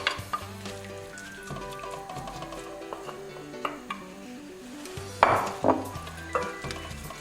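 Chopped carrot and celery sizzle steadily in a pan while being stirred for a horse-meat stew, with occasional utensil clinks and scrapes against the pan, moderately quiet and without talk.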